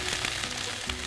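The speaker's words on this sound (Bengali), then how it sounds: "পেঁয়াজটা ভাজা ভাজা হয়ে গেছে" Chopped onion fries in hot oil in a home kitchen, giving a steady close-up sizzle that holds evenly for about a second with no talking.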